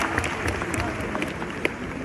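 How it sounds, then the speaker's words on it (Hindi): Audience at a wedding celebration applauding for the JWC team, a dense, continuous burst of clapping from a large crowd at steady loudness. "एक बार जोर से JWC टीम के लिए ताली मारते हैं।"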